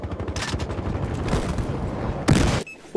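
In the video game Battlefield Hardline, minigun fire comes as sustained rapid bursts of shots with a dense, rattling texture that cuts off, then a short loud burst near the end.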